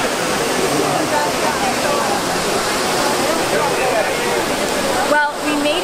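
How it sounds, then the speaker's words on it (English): Water from the Trevi Fountain in Rome pours and splashes in a steady, full rush that continues for the whole stretch, with a brief dip near the end; faint crowd voices sit underneath. "The Trevi Fountain should be somewhere right here."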